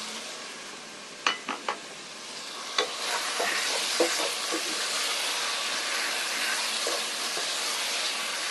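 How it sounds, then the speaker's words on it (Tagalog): Pork and liver sizzle in a hot pan with a steady frying hiss, broken by a few sharp clanks and scrapes of a utensil stirring the meat. "Ilagay na po natin yung atay para sabay na po sila"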